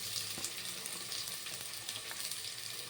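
Two large chopped onions fry in a pan for fenugreek pulao, giving a steady crackling sizzle with occasional stirring scrapes and no talk.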